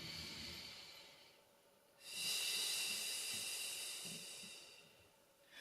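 A slow, steady exhalation during a seated breathing exercise, heard as a long soft breathy hiss that swells and then fades, after an earlier quieter breath, with no talking.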